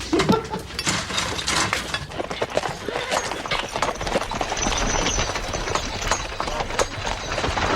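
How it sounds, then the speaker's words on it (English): Horse hooves clop in an irregular rhythm on a hard surface, with clinks and scraping sounds mixed in, moderately close. "Plow horse needs shoeing up there."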